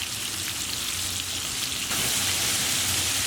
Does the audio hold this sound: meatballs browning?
yes